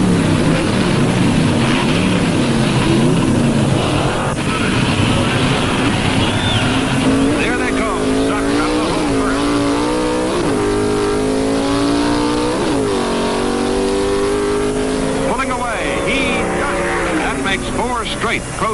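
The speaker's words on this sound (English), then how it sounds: "It'll be Sox and Martin's Hemi-Cuda against Wally Booth's rat-motored Camaro." Vintage drag racing with a Sox and Martin Hemi-Cuda against a rat-motored Camaro: loud engines rev and accelerate continuously, rising and falling in pitch, under an announcer talking.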